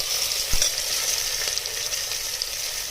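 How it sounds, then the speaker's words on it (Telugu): Chopped onions frying in oil until light golden, a steady close sizzle with a few soft stirring knocks, no voices. "ఉల్లిపాయలు లైట్ గోల్డెన్ కలర్ వచ్చేదాకా వేయించుకున్నాను."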